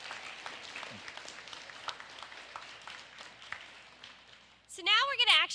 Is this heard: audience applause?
yes